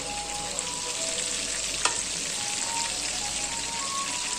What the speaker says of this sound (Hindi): इन्हें मैंने स्लो हीट पर लेके मैं फ्राई कर रही हूँ।